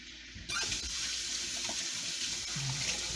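A kitchen tap switches on and runs in a steady, close hiss of water, with something rinsed under the stream, continuous from start to end and nobody talking.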